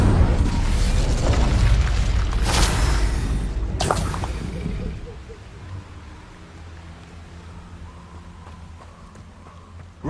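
Confringo and Incendio spell blasts from Hogwarts Legacy gameplay: loud, booming bursts with two sharp peaks early on, then a fade into a quieter lingering rumble.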